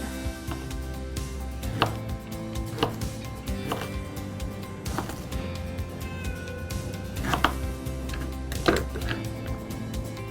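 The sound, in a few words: chopping ginger with a knife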